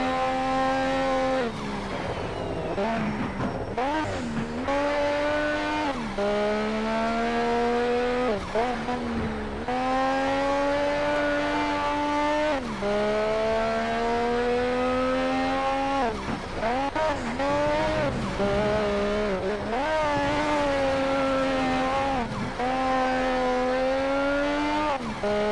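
A rotary-engined car races in Need for Speed: Shift 2 Unleashed, its high buzzing engine note rising and falling repeatedly through gear changes and revving, with occasional tire squeal, loud and continuous.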